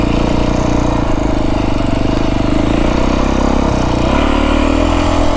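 Beta 350 dirt bike engine running steadily while riding through open desert, a loud continuous mid-pitched drone with light throttle changes throughout.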